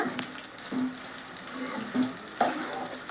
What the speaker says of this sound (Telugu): ఇవి పచ్చివి కదా, కొంచెం లేట్ అవుతుందండి ఫ్రై అయ్యే లోపల